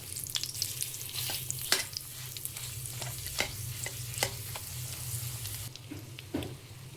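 Dates sizzle in a pan while being stirred for carrot halwa, a soft continuous frying hiss broken by repeated light scraping clicks of the spoon against the pan.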